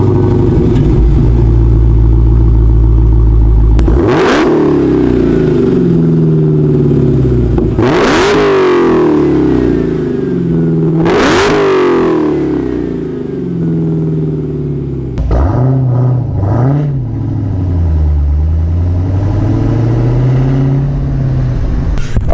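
A 2018 Dodge Challenger Hellcat Widebody with a six-speed manual revs hard three times, each loud close climb followed by a deep idle burble. Lower blips and throttle swells follow, with no talk.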